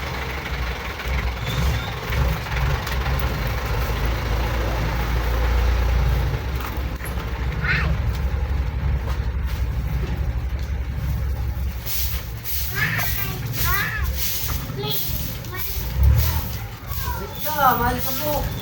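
A garbage truck's engine idles in a continuous low rumble on a residential street, with short air-brake hisses near the end and people talking over it.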